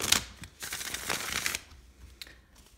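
Tarot cards being shuffled by hand: a riffling burst, then a longer run of sliding and flicking card sounds, and a few lighter taps at the end, close and moderately quiet with no talk.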